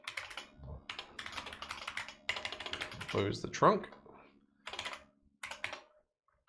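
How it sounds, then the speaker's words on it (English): Clacky keystrokes from an old IBM XT computer keyboard on a 286-accelerated machine, fast bursts of typing in several runs with short pauses, close and fairly loud, with someone talking between and over the key clatter. "It's very different typing on this old keyboard compared to a modern one."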